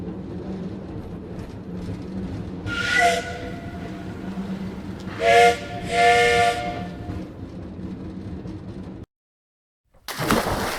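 A steam train's whistle sounds in several blasts with a long hissing of steam between them, loud and close, cutting off briefly to silence before a burst of noise returns.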